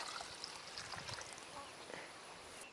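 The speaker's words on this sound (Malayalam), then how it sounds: "ഇനി നമ്മൾ പിഴിഞ്ഞു വെച്ച പുളിയുടെ വെള്ളം ഒഴിച്ചു കൊടുക്കാം അതോടൊപ്പം തന്നെ ഒരു മൂന്ന് കപ്പ് വെള്ളം കൂടി ഒഴിച്ചു കൊടുക്കാം" Squeezed tamarind water and plain water poured for Kerala sadya-style rasam, a steady, faint trickling stream running continuously, with no talk over it.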